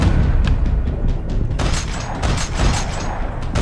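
Gunfire from the video game Max Payne 3: heavy, booming shots crack in quick irregular bursts over a dense, rumbling low end, loud and close, with no talk over them.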